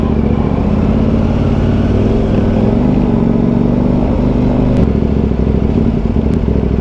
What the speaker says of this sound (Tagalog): So ito yung real world city ride test using the 800 MT